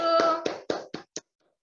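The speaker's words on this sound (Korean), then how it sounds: "박수." Five thin, tinny claps are heard over an online video call during a business presentation, evenly spaced and fading quickly into silence.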